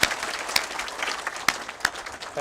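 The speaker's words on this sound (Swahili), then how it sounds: "Tukaribisha waziri na makofi ya kilo moja." Audience applause welcoming a minister at an annual delegates meeting: a short burst of scattered clapping from a crowd, a few claps louder and nearer than the rest.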